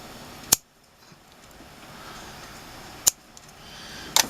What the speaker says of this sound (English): Okay, and we're going to snip.